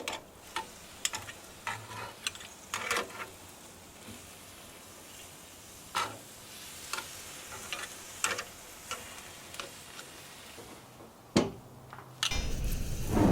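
Tri-tip steak from an Aldi kit sizzling on a grill, with scattered sharp ticks and clanks of tongs over a soft frying hiss, then a louder rush of sizzle as the meat is flipped at the end.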